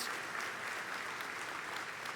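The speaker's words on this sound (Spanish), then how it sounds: "queremos darles un aplauso y decirles que no están solos" A church congregation applauds a grieving family during a service. Dense, even clapping fills the space, faint and somewhat distant, with no break and no talk.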